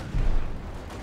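Mortar shells pound the ground in a Company of Heroes 2 battle, a low booming rumble swelling briefly and then fading into sustained dull battlefield noise.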